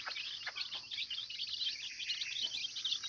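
Free-range chicks peep and chirp in quick, overlapping bursts near their mother hen outdoors, a busy, fairly soft twittering that runs throughout with no talking.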